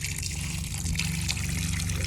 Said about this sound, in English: It's draining on the floor.